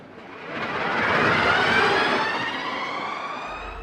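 Cupra e-TCR, a 680 hp rear-wheel-drive electric touring race car, launching from standstill at full throttle: a loud rising whine with rushing wind and tyre noise that swells and holds, with no voices.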